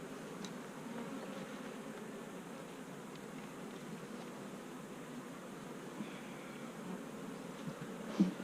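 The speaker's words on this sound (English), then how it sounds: "there are a lot of bees in that super" Honey bees buzz around an open hive and a full super. The hum is faint and continuous, with a brief nearer buzz or knock at the very end.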